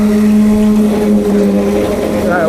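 A concrete vibrator runs during a concrete pour for an elevator shaft, giving a loud, steady, droning hum that stays level throughout, with muffled site noise around it.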